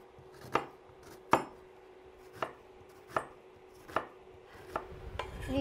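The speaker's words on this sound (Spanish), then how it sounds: "Vamos a poner media cebolla. La picamos." Half an onion chopped with a knife on a cutting board, seven crisp, evenly spaced thuds about one per second, close and clear against a quiet room.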